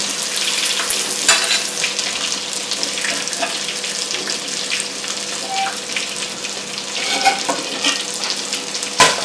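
Finely chopped onion fries in a pan for Malabari chicken biryani: a loud, steady sizzle with bright crackles and a few sharp clinks of a stirring utensil against the pan, with no talking.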